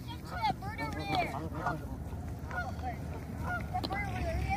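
A flock of geese honks repeatedly and irregularly over a constant outdoor background, with calls overlapping from moderate distance in a neighborhood area.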